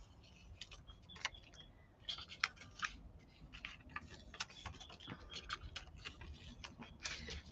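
Masking tape peels off a handmade paper card in a run of small crackling ticks and snaps, close and fairly faint, alone with no voice.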